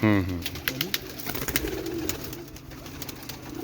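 Lahore pigeons coo in soft, repeated throaty notes close by, with voices talking over them.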